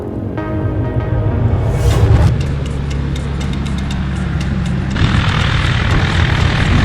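A light propeller aircraft drones loudly nearby in the Australian outback, its engine note holding steady and then shifting partway through without fading.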